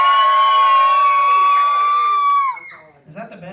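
A crowd at a lively event, likely children, cheers and shouts a loud sustained woo, then the noise drops off into scattered voices.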